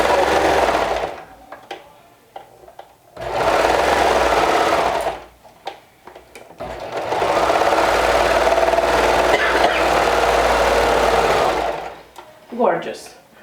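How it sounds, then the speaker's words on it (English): A sewing machine runs in long bursts while sewing a triple stretch stitch on a dress, with several loud sustained passages separated by pauses and someone speaking in between. "You can simply do this step using a triple stretch stitch on your sewing, just like we've sewn the body."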